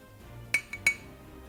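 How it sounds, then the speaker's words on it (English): A spoon clinks against a little bowl as homemade marinara sauce is spooned in, giving three short, close clinks over a quiet kitchen background. "I actually take a little bit of our marinara, put it in a little bowl like this"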